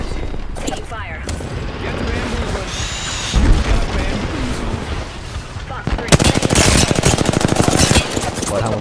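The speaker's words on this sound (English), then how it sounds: "I'm taking shots. Taking fire." Gunfire in the Apex Legends video game crackles in rapid automatic bursts under an excited voice, then grows denser and louder toward the end.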